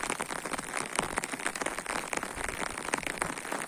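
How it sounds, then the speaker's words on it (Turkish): Heavy rain pouring outdoors near a village, a dense steady hiss of drops hitting surfaces, close and continuous with no voices. "Evet, müthiş bir yağmur var."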